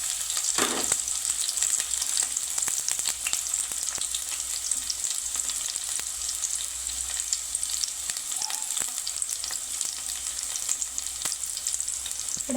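Green chillies frying in oil for a fish curry, a steady close sizzle with intermittent crackles and occasional stirring scrapes in the pan.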